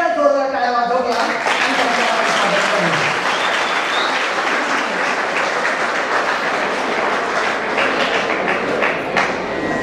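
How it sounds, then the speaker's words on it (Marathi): Loud, dense applause from a college annual day audience fills the hall, steady and sustained after a brief moment of speech at the start. "पुन्हा एकदा जोरदार टाळ्या वाजवूया."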